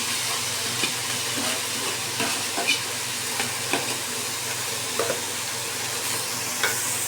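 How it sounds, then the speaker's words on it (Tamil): Mint leaves fry in an oiled pan with a loud, continuous sizzle, punctuated by irregular scraping clicks of a spoon stirring them, close and steady throughout. "இப்போ வந்து புதினாவை நம்ம கொட்டிப்போம்."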